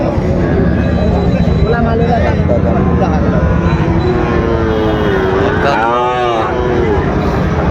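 Cattle, including young Shahiwal bull calves, low at a busy cattle market in Dinajpur, with a clear drawn-out moo near the end over steady crowd chatter and haggling voices.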